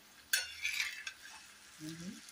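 Boiled eggs seasoned with turmeric and salt turned over in a frying pan: a sharp clatter of the utensil, then soft sizzling and scraping, with a short low hum near the end.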